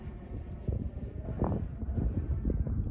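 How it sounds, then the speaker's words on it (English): Steady low wind rumble buffets the microphone throughout at about 10 mph, with gusty surges and a faint motor-like hum from a model aircraft in the background. "It's a little windy."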